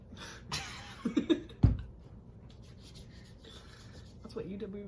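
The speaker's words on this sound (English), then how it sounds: "Now rub that in" Hands rubbing homemade peppermint-scented alcohol hand sanitizer into the skin, a few soft close rasping strokes with a cough and faint household noise around them.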